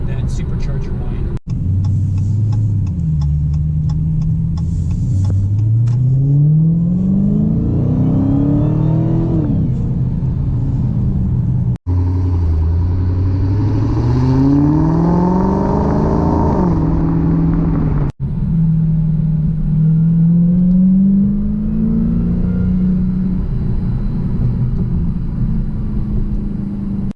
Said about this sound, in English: that sound of that supercharger whine